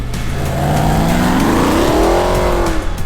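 A 1969 Dodge Daytona with a supercharged Hemi V8 accelerating hard at full throttle, its loud engine note climbing steadily in pitch, close and continuous over about three seconds with no talk.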